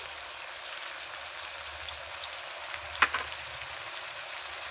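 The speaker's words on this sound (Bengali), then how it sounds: "এবার আমি ভালো করে নেড়ে নেবো মশলাগুলো ভালো করে আমি আলু ওলকপির সঙ্গে কষিয়ে নেব" Spices, potato and kohlrabi frying and being stirred in a pan, a soft continuous sizzle with a light scrape partway through, close and alone without talk.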